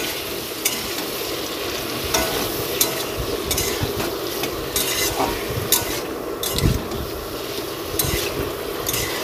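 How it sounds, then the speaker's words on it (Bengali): Spices and a ground ginger-cumin paste sauté with a splash of water in a village kitchen pan for a pointed-gourd dish. A steady, close sizzle runs throughout, with repeated scraping clicks from stirring. "দেওয়ার পর একটু সামান্য জল দিয়ে কষিয়ে নেব"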